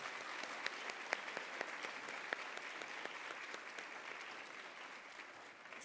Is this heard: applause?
yes